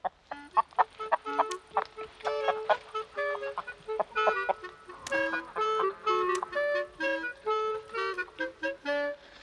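A rooster and hens cluck and squawk up close in a farmyard, a busy run of short, choppy calls in quick bursts with no talking.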